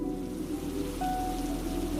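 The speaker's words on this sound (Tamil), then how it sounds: "மழை கொட்டிக் கொண்டிருந்தது." Heavy rain pours in a steady, dense wash with no other sounds on top.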